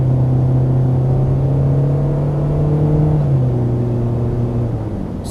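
A Mini Cooper fitted with a Sprint Booster pulls hard at full throttle from inside the cabin, its engine droning steadily up to around 5,000 RPM before the pitch drops as it shifts gears, with no talking.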